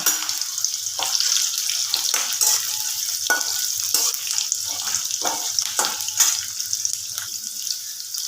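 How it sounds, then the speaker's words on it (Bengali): Chopped onions frying in hot oil and ghee for restaurant-style kadai chicken: a steady high sizzle with intermittent scraping stirs and light clinks, close and moderately quiet, with no voices. "পেঁয়াজটা আমি একটু ভালো করে ভেজে নেবো"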